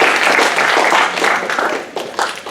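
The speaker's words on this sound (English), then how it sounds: "give them a round of applause" Audience applause greets the negative team at a college debate demonstration, a steady wash of clapping from a room full of people, fairly loud and continuous for a couple of seconds with a slight swell near the end.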